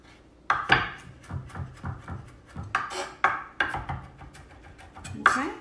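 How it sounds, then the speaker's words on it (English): A kitchen knife chops rapidly through a garlic clove on a wooden cutting board, a quick run of close, crisp taps with uneven rhythm and occasional louder strikes, heard alone at moderate volume. "we need 1 clove of minced garlic. So I'm just going to go straight down and then go across."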